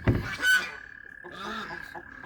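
Geese honking close by in a barnyard flock at bedtime, a loud burst of calls at the start followed by continued honks and a steady tonal hum in the background.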